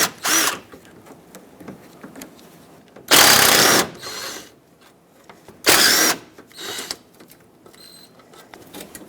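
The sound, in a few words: unbolting 10mm hood latch bolts with a long extension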